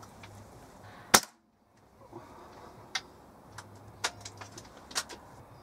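A single sharp crack from a Weihrauch HW97 spring air rifle firing outdoors on a cold day, followed by sparse light ticks and clicks against quiet background.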